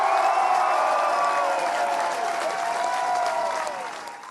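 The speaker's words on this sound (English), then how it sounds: "So it was a huge ovation for Tiernan" A rugby crowd gives a player a big ovation, with loud, sustained applause and some cheering that holds steady and then begins to fade toward the end.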